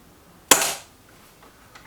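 A single sharp, close shot from a Weihrauch HW 100 air rifle cracks out with a short decaying tail, followed by quiet room tone.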